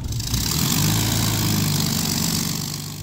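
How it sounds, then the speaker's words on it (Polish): A Spitfire's 1,700-horsepower aircraft engine starts up with a rough, low, pulsing rumble. It runs loud and close, lumpy and uneven as it catches, and no one speaks over it. "Siedzę w Spitfire'ze i zaraz uruchomimy silnik."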